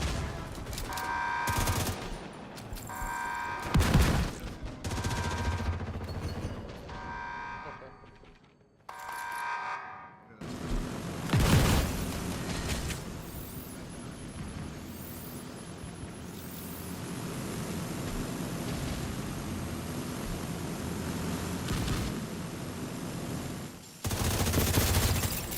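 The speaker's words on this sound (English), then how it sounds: "Now we start shooting at the mortars, and it goes from far left to right." Sustained video game gunfire during a raid called Iron Horse, shooting at mortars: dense rapid automatic bursts, loud and continuous for long stretches with brief pauses, accompanied by speech.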